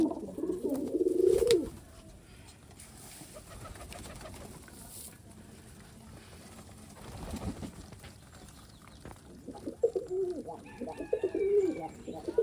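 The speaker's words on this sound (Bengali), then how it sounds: "এই যে কবুতরটা ডাকাডাকি করে এই কবুতরটা হলো ঘন বাজির" Rajshahi Giribaj pigeons coo in low throaty bursts, one near the start and several more toward the end, with quieter background noise between.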